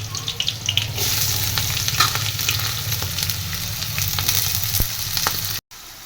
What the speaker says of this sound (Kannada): ಈಗ ಒಂಚೂರು ಉಳ್ಳಾಗಡ್ಡಿ ಸ್ವಲ್ಪ ಫ್ರೈ ಆಗಲ್ರಿ